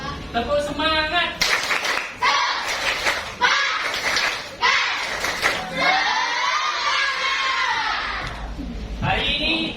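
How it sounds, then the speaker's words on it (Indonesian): Schoolchildren in a classroom perform a rhythmic spirit clap, bursts of clapping alternating with loud chanted shouts and a teacher's voice leading, close and energetic. "Tepuk semangat."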